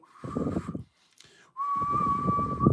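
A person whistles a wavering, sputtering tone in two bursts, imitating a broken train whistle, with a breathy buzzy sound beneath each note.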